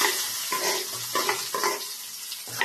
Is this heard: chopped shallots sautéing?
yes